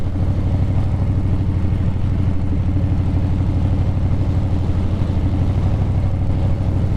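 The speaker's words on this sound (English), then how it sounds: "there's an especially bumpy bit in this road here that I'm going to ride directly over just to give the suspension a bit of a workout" A Harley-Davidson Breakout 117 motorcycle rides over a bumpy road, its engine a steady, loud, deep rumble that continues unbroken for the whole stretch with no voices.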